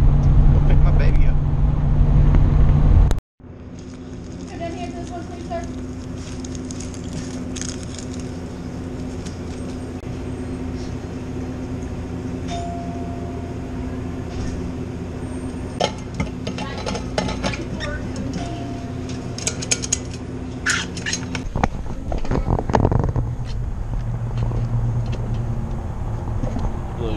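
A Buick drives on a cold day, its engine and road noise forming a steady hum heard from inside the cabin, with occasional clicks and rattles and a brief louder burst at the start.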